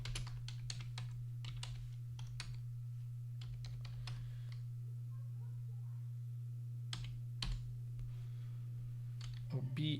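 Clicks from a computer keyboard come in quick bursts, with pauses between them, over a low steady electrical hum. Nearby and fairly quiet.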